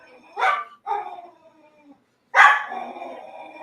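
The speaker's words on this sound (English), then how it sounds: "I have no idea what our dog Scotch is freaking out about" Indoors, a dog gives three sharp barks close by, two quick yips followed after a brief pause by a louder, longer bark that trails into a whine.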